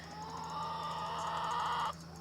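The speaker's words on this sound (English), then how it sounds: "So I thought I'd come and see what my chicken was making a ruckus about." A hen in a backyard coop in Kentucky makes a loud, sustained squawking cluck right up close, holding steady for about two seconds before cutting off abruptly.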